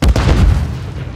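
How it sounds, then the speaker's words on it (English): A stun grenade detonates in Call of Duty MWIII multiplayer, a single loud, close boom with a deep low thump that quickly trails off into a brief rumbling decay. "Throwing stun grenade!"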